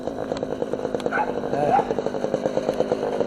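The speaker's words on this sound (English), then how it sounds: "They bark at me all the time." A dog barks repeatedly in short, rapid bursts close by, a steady yapping rhythm with a brief pitched yelp in the middle.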